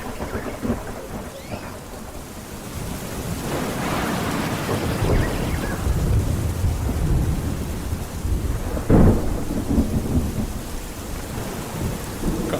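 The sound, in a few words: heavy rain and thunder in a radio drama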